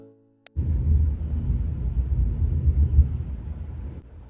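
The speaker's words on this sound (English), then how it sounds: "I don't know if you guys could hear that, but it's like thundering outside." Low thunder rumbling outside a house, heard after a brief click: a steady deep roll that swells and lingers for several seconds at moderate volume, with no talking.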